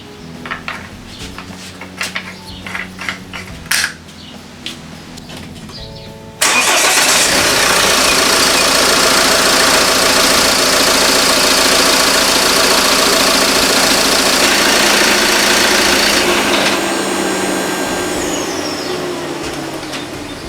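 After a few scattered clanks and knocks, a car engine cranks and catches, then runs at a loud, steady idle during an engine oil flush using 10W-40 oil.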